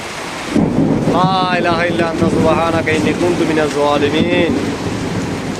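Heavy rain and rumbling thunder fill the background at Subarnachar, Noakhali, while a person talks loudly over the storm throughout.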